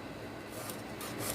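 A file rasps steadily against a dull, worn chainsaw chain from a battery-powered saw being sharpened, a continuous close scraping texture with no clear strokes separated.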